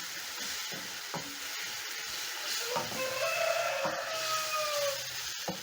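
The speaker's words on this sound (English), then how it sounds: "After 30 seconds, I'm going to be adding my tomatoes. Stir in." Tomatoes tipped into a hot pan for a fish stew, hissing and sizzling steadily while a spoon knocks and scrapes through them a few times, close by and moderately loud, with no talking.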